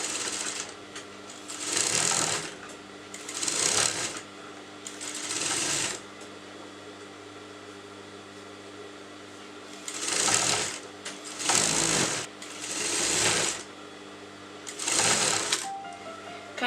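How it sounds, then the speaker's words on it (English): Sewing machine running a straight stitch along the lining of a kurta sleeve, heard in seven short bursts of steady rapid needle chatter, each lasting about a second, separated by quiet pauses, close and fairly loud with no talking. "you're going to go up just by putting a straight stitch"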